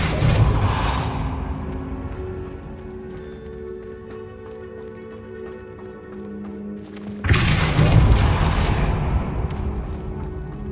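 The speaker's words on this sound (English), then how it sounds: "Depulso." The Depulso spell fires in Hogwarts Legacy as a deep whooshing thud at the start, followed by a quieter magical hum and tones, then a second heavy boom-like impact later, with no talk.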